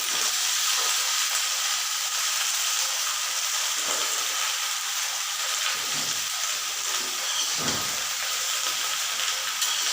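Raw jackfruit frying in oil in a wok, a steady broadband hiss and sizzle that runs unbroken at an even level, with a few faint stirring scrapes and no talking.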